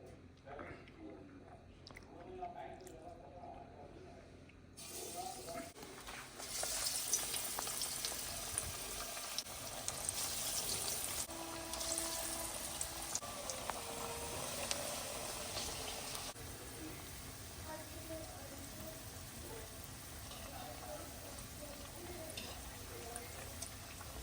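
Lentil vadas dropped into hot oil, a bright crackling fry that swells after a few quiet seconds and keeps bubbling steadily at close range, with someone talking over it.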